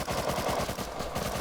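Rapid gunfire from several players in the survival game Rust hammers at a door, a dense stream of near, loud shots and bursts without pause.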